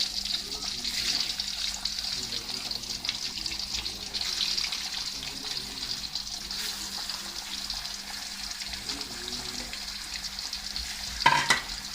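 Meat frying in a karahi for chicken karahi, a steady close hiss of sizzling oil running throughout, with a brief louder clatter near the end and no talking.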